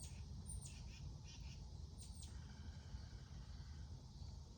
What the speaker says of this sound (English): There's a bird not far from me in the tree.